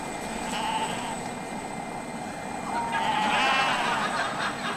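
Sheep on a Welsh farm bleat faintly at a distance, two drawn-out calls rising over steady background noise, with voices talking nearby.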